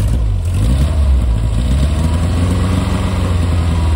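A 1969 Renault 10 engine runs at a steady idle close by, a loud, even low rumble with a regular throb and no talk.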